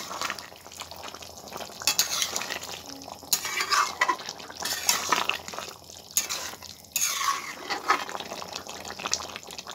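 Jackfruit curry is stirred and mixed in a pan, with repeated wet scraping and sloshing strokes in an uneven rhythm, close and fairly loud, with no talking.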